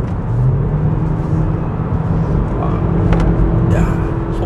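A Hyundai Kona Hybrid sweeps through a corner at speed, giving a steady cabin drone of road rumble and a whirring drivetrain, with tyre and engine noise swelling slightly.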